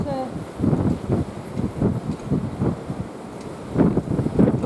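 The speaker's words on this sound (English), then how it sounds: "bit windy, isn't it?" Heavy wind on the coast at Lyme Bay buffeting a microphone in rough, low rumbling gusts, with a person talking through it.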